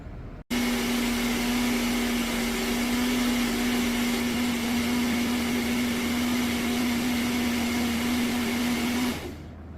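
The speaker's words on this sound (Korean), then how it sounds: "미스기 갈아서 하는 걸 보여드리겠습니다" An electric kitchen grinder runs steadily at a constant pitch, grinding misugaru, a Korean roasted grain powder, for about nine seconds, starting abruptly and cutting off near the end, loud and close with no talking.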